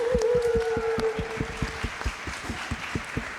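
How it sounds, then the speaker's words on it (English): Applause at a live music coaching session, with steady individual claps sounding close and fairly loud, some voices at the start of the stretch, and the clapping thinning out toward the end. "Can we give a warm round of applause for"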